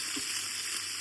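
Beef pieces browning in a stock pot hiss and sizzle in an even, close, continuous wash of frying noise, no talking.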